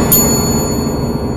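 A small bell rings once as a sound effect, a bright ding at the start whose thin tone lingers and fades over a low continuous rumble.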